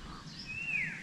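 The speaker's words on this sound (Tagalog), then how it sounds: "Dito ihuni lang ng ibon ang maririnig natin" A single bird chirps outdoors in a quiet rural spot, a short rising call near the end over low background hum, with no one talking.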